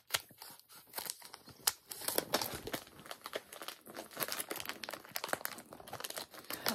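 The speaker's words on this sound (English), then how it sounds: "All right, let's cut this open." Plastic packaging holding a plushie is cut and torn open, giving close, busy crinkling and ripping with quick snips, steady throughout and without talk.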